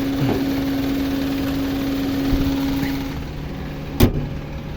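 A 2010 Honda Civic's fuel-injected engine idles with a steady, even hum, moderately loud and close, with a brief sharp knock near the end and no talking.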